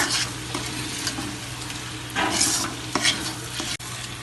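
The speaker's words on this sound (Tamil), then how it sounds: "இப்போ அந்த காரத்தூளை இதில் போட்டு நம்ம ஒரு 5 நிமிஷம் வதக்கிடுவோம்" Mango pickle with chili powder sautés in a pan, giving a soft, continuous sizzle broken by scraping strokes from stirring, close up and with no voices.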